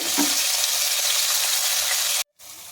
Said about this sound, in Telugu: ఉల్లిపాయ ఎర్రగా వేగినాయండి ఇలాగ వేగనివ్వాలి